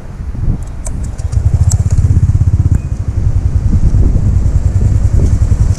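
A Honda Click scooter fitted with a JVT Pipe V3 adjustable exhaust revving close by, a loud, throbbing low exhaust note that rises and pulses steadily after a brief idle, with no talk.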